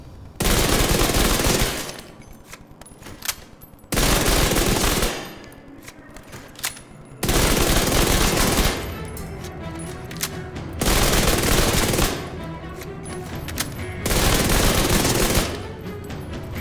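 The Dark Winter submachine gun in The Division 2 fires five loud, rapid automatic bursts, each about a second or two long, separated by short quiet gaps.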